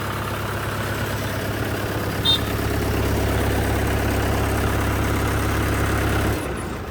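A tractor engine idles nearby with a steady, loud low rumble that holds evenly and then stops near the end, with no talking.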